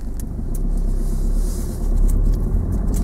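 Car coasting in a driving lesson, a steady low road rumble and engine hum from inside the cabin with no acceleration, no talking.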